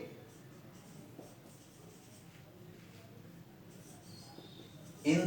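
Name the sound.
writing a sentence on a board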